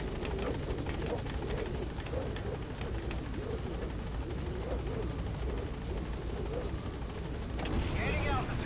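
The Pequod helicopter in Metal Gear Solid V approaches a landing zone, a continuous rotor drone under game sounds and voices, with a louder burst near the end.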